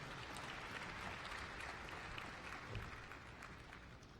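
An audience claps at a university chancellor installation ceremony, dense continuous applause at moderate level filling the whole short stretch with no talking.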